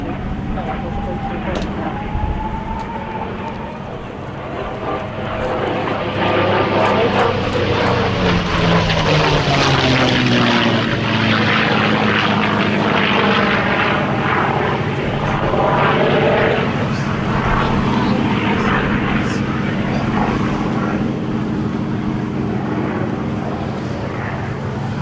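The P-51 Mustang 'Jersey Jerk' flies a display at the Duxford Summer Air Show with a loud, sustained piston-engine and propeller roar that swells and shifts in pitch as it passes. A commentator talks over it.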